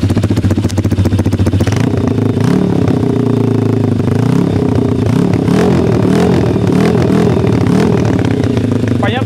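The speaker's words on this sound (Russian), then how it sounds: "можете послушать звук двигателя сразу, пока данный питбайк заведен" An XMOTOS 125cc pit bike runs close by, its single-cylinder engine and exhaust idling loud and steady with a rough, pulsing clatter and small rises in revs.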